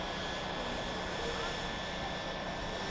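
A remote-controlled helicopter lifts off and flies, producing a steady, faint, distant engine-and-rotor drone that holds an even level with no change in pitch or loudness.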